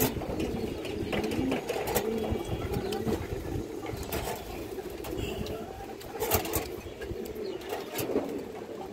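A pair of Kaldam pigeons coo in low, repeated murmurs over steady background noise, with a few soft flutters and faint voices nearby.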